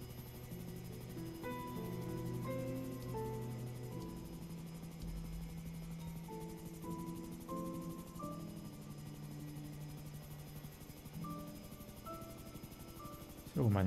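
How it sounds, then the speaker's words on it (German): A Hunter helicopter in GTA V drones with a steady rotor and engine hum throughout, heard alongside layered game music tones, continuous and fairly even in loudness. "Oh, mein Heli. Der Hunter ist in gutem Zustand."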